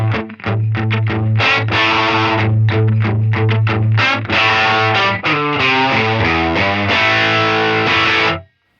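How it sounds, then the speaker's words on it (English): Loud distorted electric guitar playing a riff of chugging low notes and chords, thickened by a quick single-repeat delay, with no voices. "that really subtle and fast delay just helps to thicken up the guitar sound"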